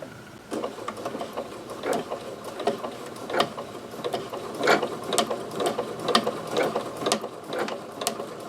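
Home sewing machine stitching steadily with a walking foot fitted and a long stitch length of about 3 to 3.5, a close, continuous mechanical chatter with rhythmic clicks and no talking.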